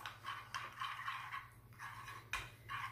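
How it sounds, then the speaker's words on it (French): A spoon scraping and clinking around a bowl of salmon marinade with dill, close and steady, in repeated strokes over a low background hum. "Je mélange bien"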